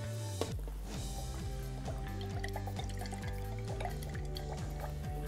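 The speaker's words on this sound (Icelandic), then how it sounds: "Aðeins að hræra." A color-changing indicator is stirred into a container of water, giving a quick, steady run of light liquid swishes and small clinks, close and fairly quiet, with no voices.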